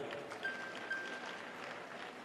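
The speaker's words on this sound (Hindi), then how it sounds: "मेरी माताओं के लिए ताली बजा दो भाई।" Faint, distant clapping from a large audience at a live Shiv Mahapuran religious discourse, a soft continuous patter with a couple of slightly louder bursts.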